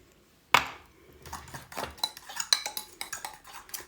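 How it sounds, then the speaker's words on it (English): Peanut sauce whisked in a bowl: a sharp clink opens, then quick rhythmic scraping and tapping of the whisk against the bowl, close and steady with no talking. "Just keep on whisking."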